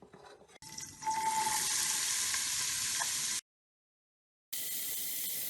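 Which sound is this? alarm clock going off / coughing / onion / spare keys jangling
onion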